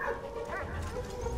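A dog barks and whimpers in the World War I video game Valiant Hearts: The Great War, short yips over a steady game background with no talking.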